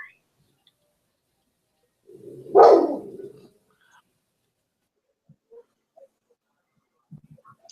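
A single short dog bark rings out close by in a quiet room, followed by faint small noises and near silence.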